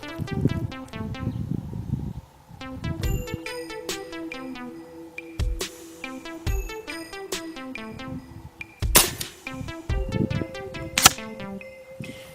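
A Kral Arms Maxi .22 caliber air rifle fires with a sharp close crack, among several other sharp clicks and snaps, in an otherwise quiet setting.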